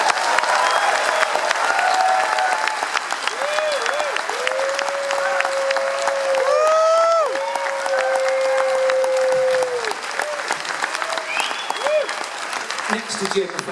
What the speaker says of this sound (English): so let's hear it for Jim Rock